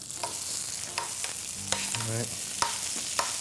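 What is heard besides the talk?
oil and vegan butter sizzling in a hot pan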